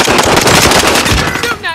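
Rapid automatic gunfire in Call of Duty: Modern Warfare, a loud close burst of fast repeating shots that trails off with a brief voice at the end.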